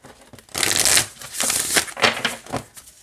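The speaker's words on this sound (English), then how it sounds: "It shuffles just great like this." An oracle card deck is shuffled by hand in several quick, crisp riffling bursts, close and clear, with short pauses between them.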